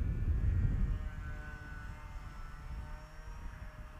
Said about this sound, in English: But it's still a fun little plane.